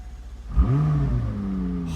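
A McLaren 600LT Spider's mid-mounted engine fires with a sharp starter catch, then flares into a rising rev before settling to a steady, throaty idle, loud and close with no talk.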